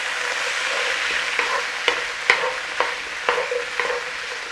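Dark soy sauce, Shaoxing wine and black bean sauce ingredients sizzle in a hot pan while a utensil stirs them, giving a steady hiss broken by several sharp clacks and scrapes.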